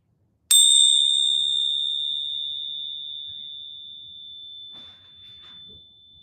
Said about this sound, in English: a bell to begin